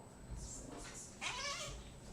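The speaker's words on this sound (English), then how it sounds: "Oh, cats, really?" A cat meows indoors in a room with a steady background hum, giving two or three drawn-out, rising calls close by.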